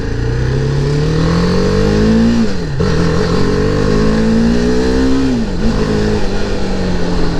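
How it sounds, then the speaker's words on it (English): A BMW G310R motorcycle engine revs loud and close, its throaty pitch climbing steadily and dipping twice as the throttle is blipped again, with no talking. "This engine feels like it can rev, and it's also pretty throaty"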